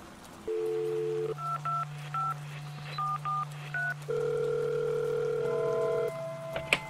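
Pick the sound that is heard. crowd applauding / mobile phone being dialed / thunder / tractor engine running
mobile phone being dialed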